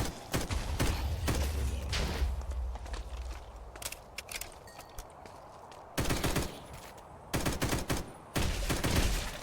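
Gunfire from a gun in Minecraft comes in several loud, rapid clusters of shots separated by short gaps, close and harsh throughout.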